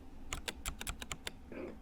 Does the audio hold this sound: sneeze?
no